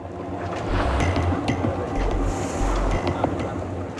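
A large cargo ship moves at sea at about 16 knots, giving a steady low rumble of engine and hull noise mixed with wind and water wash.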